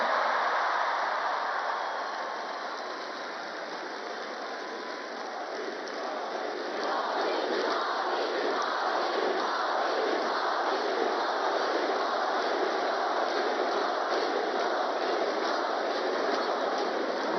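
A large crowd applauds and cheers to welcome Prime Minister Narendra Modi at the National Youth Festival in Nashik, a dense, loud, sustained roar with rhythmic clapping and chanting that swells after a brief dip.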